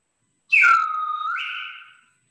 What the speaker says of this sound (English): And to get the kite's attention, he whistles.